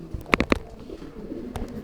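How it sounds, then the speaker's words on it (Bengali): Pigeons of a flying breed kept at a farm give a quick close burst of three soft coos, then a fainter pair of calls a second later, alone with no talk over a quiet background. "আজকে আমার কাছে হিউজ পরিমাণ গিরিবাজ, হিউজ পরিমাণ উড়ানোর কবুতর আছে।"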